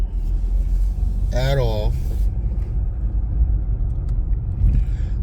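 Low, steady interior rumble of a car driving home on a snowy road, continuous and close throughout, with a brief spoken phrase near the start and a faint tonal chime near the end.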